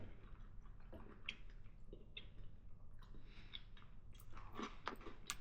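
A crunchy marshmallow-flavoured snack is chewed close to the mic, with repeated crisp bites and crunches at an uneven rhythm over quiet mouth sounds and no talking.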